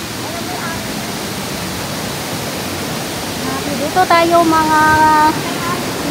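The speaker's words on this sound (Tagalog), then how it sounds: "Pakita ko sa inyo kung gaano kalaki ng ilog" Water from a provincial river in the Philippines rushes steadily and loudly throughout, a continuous close wash of noise, with someone speaking briefly over it near the end.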